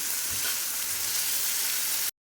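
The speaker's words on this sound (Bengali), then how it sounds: "হালকা হালকা ভাজা হবে। আমি লো ফ্লেমে দিয়েছি।" Steady, soft sizzling of long-cut vegetables lightly frying in a pan over a low flame for fried rice, a continuous hiss throughout with no voices, ending abruptly.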